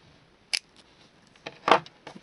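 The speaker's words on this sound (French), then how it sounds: "Donc vous coupez le fil à 5-6 mm du bord." Scissors or cutting pliers snipping the cord of a woven loop bracelet, trimmed close to the edge: two short, crisp snips about a second apart, near and alone in a quiet room, with faint handling clicks around them.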